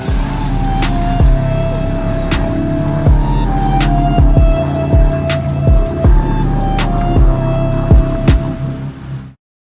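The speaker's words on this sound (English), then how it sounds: "Apologise for the wind, cars going past me." Cars roll past on a windy street beside a parked 5L LN167 Toyota Hilux, steady wind rumble underneath and repeated passing whooshes of traffic, fairly loud and close.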